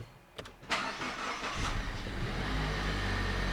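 Mazda CX-5 engine with a new battery cranking briefly with a few clicks and turns, then catching and settling into a steady close idle.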